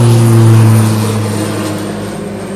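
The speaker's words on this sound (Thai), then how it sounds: "มีเครื่องบินพอดีเลยโอ้เครื่องบิน" A propeller airplane passes overhead outdoors, a steady droning hum with strong low tones that is loudest at first and then slowly fades as it moves away.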